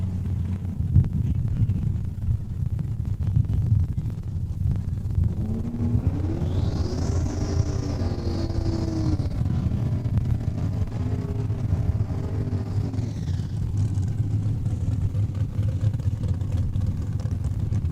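Full-throttle drag race pass down a quarter-mile strip at Saskatchewan International Raceway: a loud, steady engine roar builds and sweeps across the clip with a rising, wavering pitch, heard at a distance over constant low rumble.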